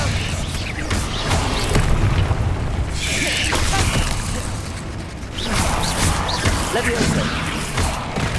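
Repeated fire-spell blasts and crashing impacts from Hogwarts Legacy combat, dense booming bursts and whooshes layered with game voices and clatter throughout.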